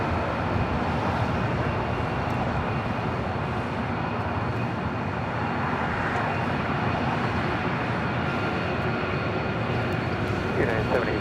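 An Emirates Airbus A380 takes off at LAX, heard as a broad, continuous roar of jet engines that stays steady and fairly loud for the whole stretch, with no talk over it.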